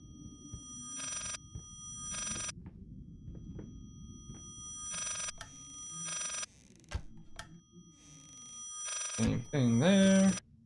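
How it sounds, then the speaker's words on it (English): A telephone rings repeatedly in the horror game Layers of Fear, several evenly spaced electronic ring bursts over a low ambient drone, with other game sounds and a rising tonal swell near the end; nobody talks. "And here comes the phone. And here comes the ringing."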